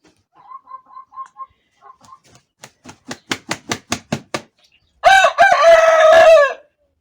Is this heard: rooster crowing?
yes